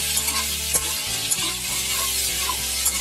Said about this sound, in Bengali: সেই পেঁয়াজগুলি দিয়ে দিয়েছি। দিয়ে এবার সুন্দর করে ভেজে নেব।